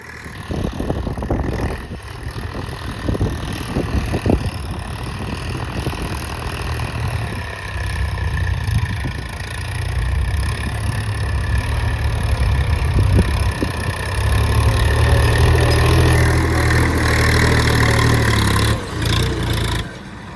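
A diesel tractor engine idles steadily with a low chugging rumble, close and continuous throughout, joined by occasional clanks.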